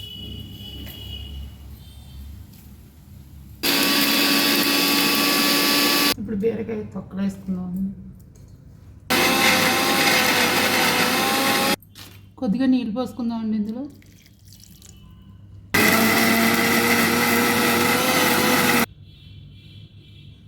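Mixer grinder whirring in three loud bursts of a few seconds each as ridge gourd peels, tomatoes and water are ground into a coarse chutney, with someone talking in between the runs.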